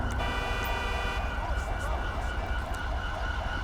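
Ambulance siren in the video game GTA 5, a steady wailing tone cycling up and down over traffic rumble, moderately close, with a voice talking over it.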